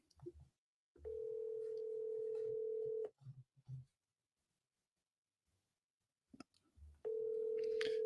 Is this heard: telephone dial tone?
yes